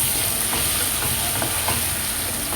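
Fried brinjal curry with ground spice powder being stirred in a pan over low heat, a loud close sizzle with soft rhythmic scraping strokes.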